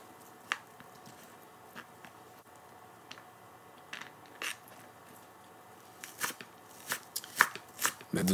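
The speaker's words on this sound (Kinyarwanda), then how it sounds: "ndakata ibitunguru ku buryo biba bito bito." Onions being chopped into small pieces with a knife, heard as sparse crisp cuts at first that grow into quicker, louder chopping on the board toward the end, close and quiet.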